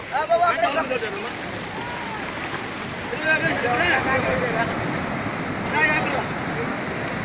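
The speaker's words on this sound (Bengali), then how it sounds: "এরা এদের ঢেউ তুলে দিয়েছে" Surf rolls and washes steadily onto Puri beach, where fishermen haul in nets from the sea, while voices call out over the constant surge of the waves.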